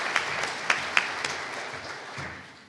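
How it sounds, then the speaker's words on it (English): Audience applause at a summit panel session, a dense crowd of clapping with a few sharp individual claps standing out early, then gradually tapering off. "A round of applause in supporting that."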